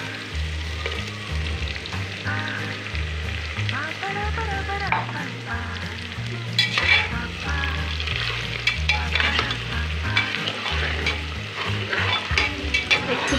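Crushed whole garam masala and bay leaves frying in hot oil for a beef curry, a steady loud sizzle with continual stirring and scraping of a spoon in the pot, close up, with no talking.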